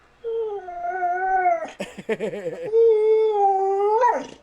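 A puppy gives a sustained, wavering howl broken by a short burst of yips and whimpers, then howls again close to the microphone, with no talking.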